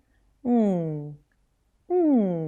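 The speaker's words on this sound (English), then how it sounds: "One is like an NG sound." A singer's warm-up on a hummed NG sound, two sustained sliding vocal sirens with a short gap between them, close and clear with steady pitch glides.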